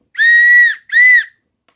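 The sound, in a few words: survival whistle being blown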